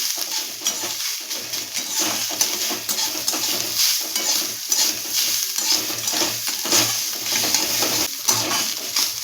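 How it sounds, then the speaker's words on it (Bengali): Grated coconut fries in a pan for a tangy-sweet wood apple pickle, giving a continuous close sizzle broken by repeated scraping stirs and occasional soft knocks against the pan, with no voices. "নারকেল কোড়াটা একটু ভেজে নিতে হবে।"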